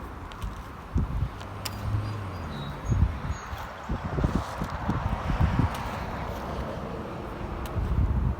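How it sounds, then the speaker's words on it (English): Gusty wind buffets the microphone in irregular bursts, with faint traffic passing in the distance. "it is super windy out here"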